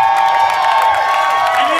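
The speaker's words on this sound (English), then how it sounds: "let's give a big round of applause to Ray Lopez" Audience at a live comedy show at The HEAT in San Antonio cheering and whooping with steady applause, a dense crowd roar that holds loud and continuous throughout.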